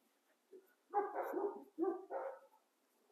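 A dog, likely Elsie, gives a few short barks and yips close by in a quiet garage or workshop, with a small gap between the bursts and no talking.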